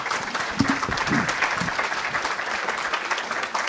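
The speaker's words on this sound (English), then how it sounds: "we're going to give a warm round of applause for our directors" A conference audience at the 2024 Reelworld Summit gives a warm, sustained round of applause for a panel of episodic television directors, the clapping dense and even throughout, with a few faint voices in the crowd.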